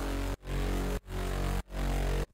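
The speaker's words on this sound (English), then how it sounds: "I have this redux going on the highs and mids of this bass right here." Synth bass run through an Ableton Redux bit crusher on its highs and mids: four loud, gritty, sustained bass notes in a steady rhythm, each cut off sharply by a short gap, with no voices.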